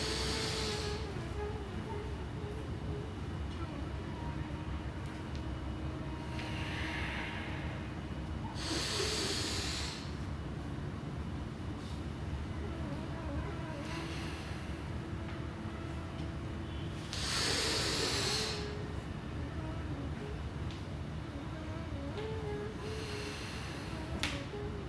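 Forceful exhalations through the nose during a yoga breathing exercise, a few sharp hissing snorts spaced several seconds apart over a quiet steady background.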